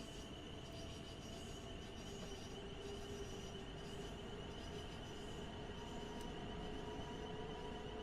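Class 700 electric multiple unit running in a Train Sim World 3 simulation between Brighton and Bedford: a steady rolling rumble of wheels and bogies with a faint high whine and occasional squeal, constant and close, no talk.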